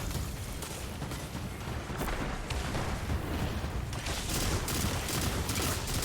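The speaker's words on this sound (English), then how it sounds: "that witch is firing at me, and it's painful" Gunfire from the video game Destiny sounds as a dense, continuous barrage of rapid shots and blasts, loud and unbroken for the whole stretch, with no talking.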